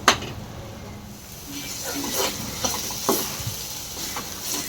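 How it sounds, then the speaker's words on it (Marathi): Spice masala for a drumstick curry is stir-fried in a pan, producing a moderate continuous sizzle with scraping stirring strokes every second or so, close and fairly quiet. "मसाल्याचा कच्चेपणा जास्तोपर्यंत चांगला परतून घेऊ"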